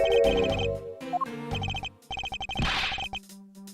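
A loud phone ringtone plays in the video game Kilometers Detective: a bright, electronic melodic ringing in short bursts, with a brief crash-like hit partway through and no voices.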